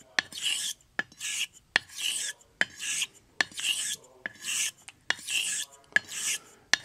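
A vintage Filarmonica 14 straight razor is stroked across a long 60 by 250 millimetre honing stone in a regular series of about nine crisp, close scraping passes. Each pass opens with a sharp tick, and the strokes are clearly separated by short gaps.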